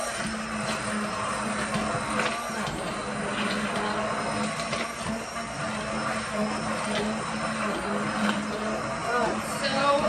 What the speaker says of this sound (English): I'm going to use an immersion blender just because that cream cheese sometimes needs to really get mixed up